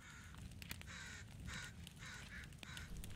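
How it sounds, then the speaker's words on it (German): A raven caws several times in the survival game The Forest, each harsh call fairly faint and separated by short gaps over a low rumbling background. "Oh, da ist ein Rabe reingeflogen."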